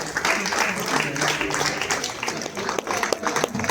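An audience claps in a steady, dense burst of applause that runs through the whole stretch, with voices mixed into the crowd noise.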